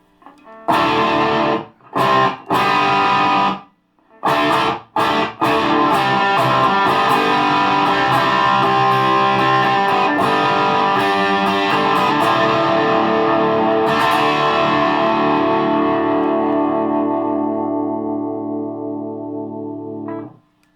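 Electric guitar through a NUX Plexi Crunch distortion pedal: a few short chopped strums, then a long sustained chord ringing out loud and slowly fading.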